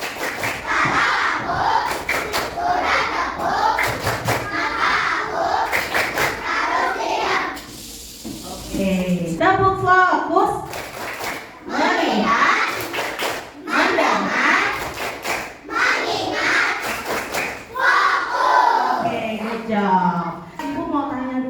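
Classroom children clap and chant together in bursts of rhythmic claps and group calls, broken by short pauses and a teacher's voice.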